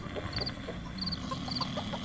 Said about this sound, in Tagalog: Dayjay, agkikyak ti manok.